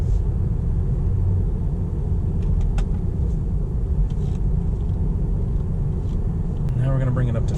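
Steady road and tire rumble fills the cabin of a Tesla Model 3 cruising at 40 mph, an even low roar with faint wind hiss and a brief voice near the end.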